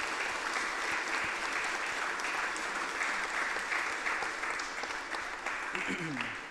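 A church congregation on Easter Sunday applauds, a steady wash of many hands clapping at moderate level throughout, with a voice starting to speak near the end.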